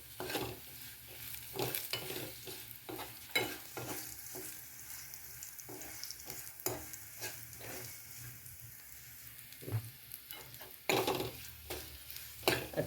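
Grated coconut and peanuts sautéing with turmeric in a pan for a sweet-sour panchamrut, a soft sizzle broken by repeated scraping and stirring knocks of a spoon against the pan, close and moderately quiet.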